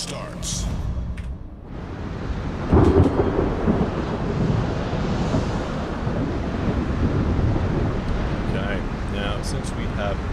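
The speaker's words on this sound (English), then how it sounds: "Since we have the storm, it will lose our visibility a lot." A stormy sea scene in the naval combat game World of Warships gives a steady wash of rain and wind with low rumbling thunder, a louder crack near the start, under continuous ambient noise.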